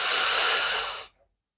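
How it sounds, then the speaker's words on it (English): A single deep, steady inhale of about one second, close and breathy, during a gentle yoga session in sphinx pose, ending abruptly in silence. "Breathing in"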